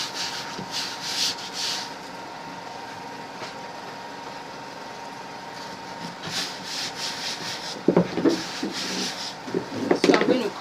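Scissors or a blade cut through 1/4 inch foam around a carry board in soft, scratchy rubbing strokes up close, turning rougher and louder toward the end.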